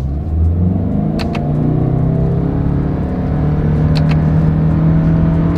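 A 2024 Toyota Camry Hybrid with a CVT accelerates hard in sport mode, a steady loud engine drone and road rumble heard from inside the cabin, rising smoothly without distinct gear shifts.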